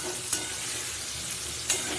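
Soft, steady sizzle of fish frying in a pan, with two brief scraping clinks from stirring; no voices.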